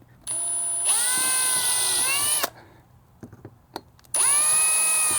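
A power drill drives screws into fender flares on an EZGO golf cart, two loud whirring bursts that rise in pitch, split by a quiet gap with a few small clicks.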